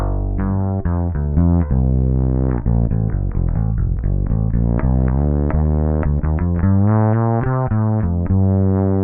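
Fretless bass run through a Ghost pedal with extra cabinet simulation, giving a brighter distorted tone; a steady stream of sliding, plucked notes and busy runs plays loud and alone.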